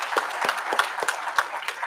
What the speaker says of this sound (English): Can we clap for our panelists?